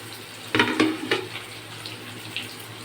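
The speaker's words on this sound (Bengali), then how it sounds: "এবার তেলে ঢেলে দিলাম।" A batter of okra coated in a spice mixture hits hot mustard oil in a kadai, giving a sudden loud splash that settles into steady close sizzling and bubbling.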